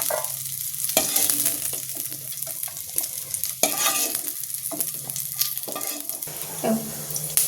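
Cauliflower pieces frying in oil in a pan, a dense, loud sizzle with frequent scraping strokes of a spatula stirring them, close up and continuous.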